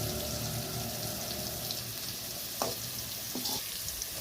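Pirandai (adamant creeper) sautés in a pan for a chutney, giving a steady, moderately quiet frying hiss with a low hum beneath it and a few brief scraping stirs near the end.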